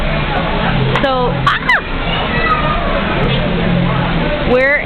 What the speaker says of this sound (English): we're in front of the waterfall.